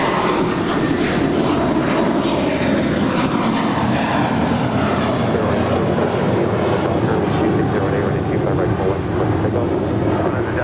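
A jet airliner on runway 25 right at LAX, Los Angeles, takes off as a loud, broad engine roar holds steady through the whole stretch, with air traffic control radio talk running over it.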